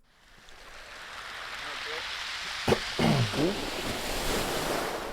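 Ocean waves wash onto a beach in a music video, a soft, rising surf roar under wind noise, with a brief tonal, voice-like sound in the middle.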